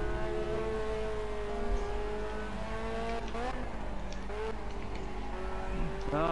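A V8 race car fitted with a racing exhaust in Project Cars revs with a steady, buzzing engine drone that shifts pitch with quick rises and dips, loud and continuous throughout.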